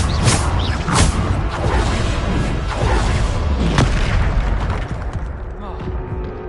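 Bombarda explosion spells cast in the video game Hogwarts Legacy, with several sharp booming blasts in quick succession amid combat effects, and a voice talking over them.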